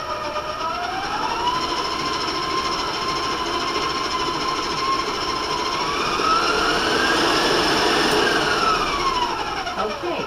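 An electric mixer beats sugar cookie dough with vanilla at a raised speed, a steady loud whirring motor hum with a rising and falling whine as the beaters work, alone with no talk.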